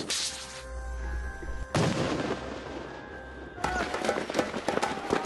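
Sri Lankan special forces firing AK-47 assault rifles and rocket-propelled grenades, loud bursts of automatic gunfire and sharp blasts crackling in rapid succession, with a heavy onset midway and dense shooting toward the end.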